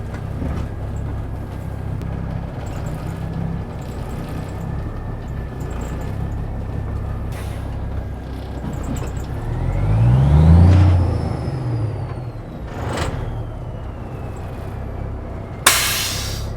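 An old donor cabover truck runs with a rough engine hum, then revs up once with a rising whine before settling back, followed by a sharp clunk near the end.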